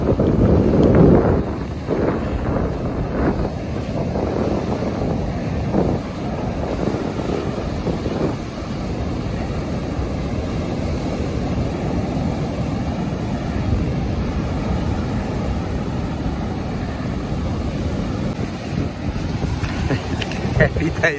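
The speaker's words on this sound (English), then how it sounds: "the wind is now cranking, so time to go home" Strong wind roars steadily across the open sea off St Lucia while fishing from a small boat, a constant loud buffeting rush over the microphone with a brief louder gust at the start and no pauses.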